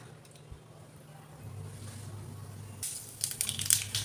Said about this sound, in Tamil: கடுகு நல்லா வெடிச்சிருச்சு